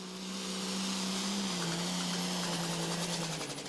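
A 4010 pulling tractor with a 470-cubic-inch engine roars steadily at a tractor pull in Shepherdsville, a loud continuous drone with a strong low hum and a slight pitch dip midway, running alone without talk.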